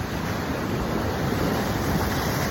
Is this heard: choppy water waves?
yes